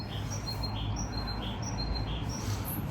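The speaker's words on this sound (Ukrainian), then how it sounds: "Чуєте, як птахи співають?" Small birds chirp and tweet in quick, high-pitched notes, scattered repeatedly over a low steady hum, moderately faint and somewhat distant.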